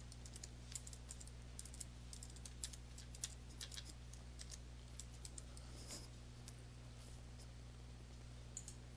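Someone types a query name on a computer keyboard, producing quiet, irregular key clicks in quick bursts against a low steady hum, with no talking.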